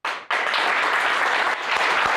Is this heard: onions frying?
no